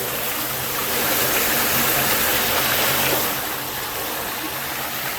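Flood water rushing past in a steady, loud broadband roar and hiss, like a swollen stream or waterfall, continuous with no talk.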